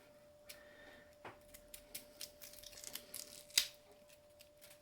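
Shallot bottoms trimmed with a knife give a string of faint, close snips and crisp tearing ticks, scattered irregularly and with one sharper crack near the end, against a quiet room.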